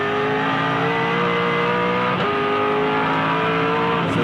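A 2007 V8 Supercar races around Phillip Island, its engine roaring loud and close through gear changes, with a brief dip as it shifts up before the revs climb again.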